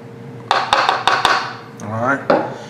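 A melon baller scrapes and scoops into the middle of a potato, giving several sharp knocks and scraping clicks up close, with a voice talking briefly partway through.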